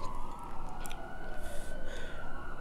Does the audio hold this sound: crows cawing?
no